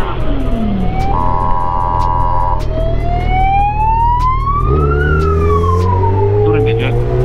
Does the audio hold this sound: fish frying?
no